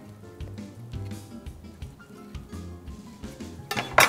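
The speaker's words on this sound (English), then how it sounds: "And then cut them in the other direction." A knife slicing through avocado into cubes on a board, a series of soft, irregular taps and clicks close by with a brief clatter at the end, no talking.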